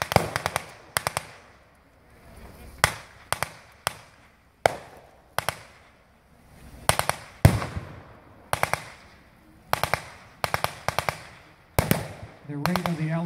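Repeated blank-fired gunshots and short bursts from a World War II battle reenactment crack out in irregular volleys across an open field, loud and close, with pauses of low ambient rumble between.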